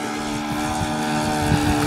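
A glow-powered model airplane engine runs steadily with a continuous buzzing drone, close and fairly loud, with a slight swell in intensity near the end and no voices.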